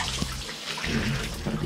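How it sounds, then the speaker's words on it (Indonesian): Running water rinses a fishing rod after it was cleaned with Star rod shampoo, a steady close splashing wash with no talk over it. "lalu kemudian kita bilas joran yang sudah kita bersihkan dengan sampo joran Star ini"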